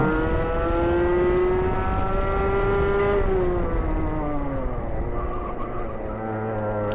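Rotax two-stroke kart accelerating hard out of a corner on a racing circuit, a loud, close, rising buzzy engine whine that climbs in pitch for several seconds, then eases and falls away; no talk.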